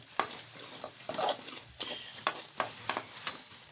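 A spoon stirs onion and chili puffed-rice seasoning in a pan over a low gas flame, giving close, repeated scraping and tossing strokes with a faint sizzle underneath.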